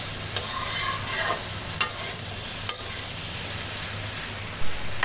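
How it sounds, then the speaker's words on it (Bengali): Jackfruit and chicken fry with ground turmeric in a pan, a bright continuous sizzle broken by quick scraping strokes of a spatula stirring the pieces, close and clear with no voices. "ঘন ঘন নাড়তে হবে বন্ধুরা"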